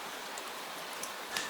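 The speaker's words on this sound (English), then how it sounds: "Then there is only rain again." Gentle, steady rain falls on a quiet night, a soft continuous hiss with occasional brief drops, alone and without voices.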